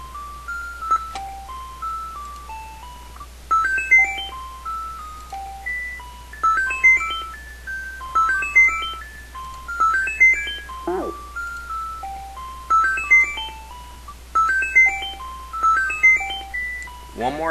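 Simple electronic game music from a self-made App Inventor game plays a bright, chime-like melody in repeating short phrases at moderate volume, with a couple of quick swooping sound effects and a steady low hum underneath.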